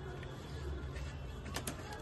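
Pigeons coo low and continuously at close range while drinking water, with a couple of brief brighter sounds near the end.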